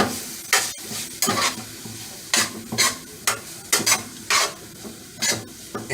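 Steak fajitas sizzle in a pan while being stirred, the spatula scraping in regular rhythmic bursts about twice a second over a continuous hiss; close and loud, with no talking.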